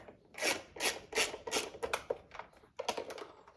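A wrench ratchets and rasps as rear fender bolts come off a Kawasaki ZX6R motorcycle, with rhythmic bursts of scraping clicks up close, about eight strokes, and no talk.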